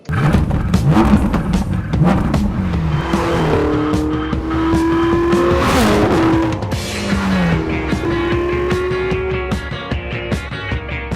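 A Ferrari 488 GTB with its 670-horsepower engine accelerates hard, loud and close, rising in pitch through several gear changes with brief drops between shifts and a steady roar throughout, no talking.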